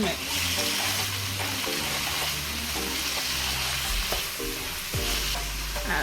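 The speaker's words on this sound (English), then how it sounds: "my chopped green peppers, and mix." Chopped green peppers and green onion sizzle loudly in a pan while being stirred and mixed, a dense continuous frying hiss with scraping strokes throughout.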